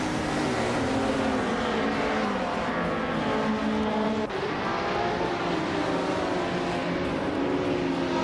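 Several race cars, including a Lamborghini Diablo Jota, roar off the start line together in a racing video game, a loud, steady wall of engine noise that holds for the whole stretch, with no voices over it.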